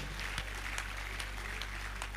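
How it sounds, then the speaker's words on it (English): An audience applauds at a university induction and oath-taking ceremony: a dense, steady clatter of many hands that runs continuously, with no voices on top. "Keep clapping for him."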